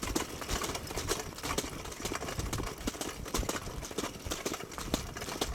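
Racehorses during track work, their hooves beating in a fast, steady rhythm of dense clip-clop strikes that carry on throughout at moderate loudness, with no voices.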